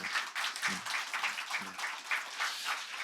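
A church congregation's scattered clapping after a worship service, a steady patter of hands from a small group lasting a few seconds, fairly close and moderately loud.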